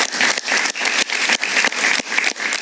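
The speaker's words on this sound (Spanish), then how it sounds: "Un aplauso para ella, por favor." Studio audience applause on a Spanish-language talk show, a dense loud stretch of clapping with a pulsing, uneven rhythm that carries on throughout the short clip.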